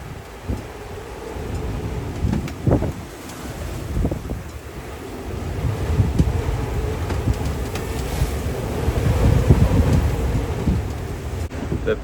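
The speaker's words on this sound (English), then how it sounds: "You can just hear that wind roaring." Strong wind roars steadily across a sailing boat heading to Monopoli, with microphone buffeting, sloshing waves and a hull rising and falling in rough water, building louder toward the end.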